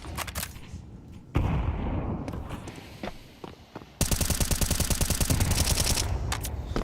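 Gunfire in a Counter-Strike match, Team Falcons vs. Team Vitality: scattered single shots and footsteps, then a rapid, loud, sustained automatic burst of rhythmic cracks.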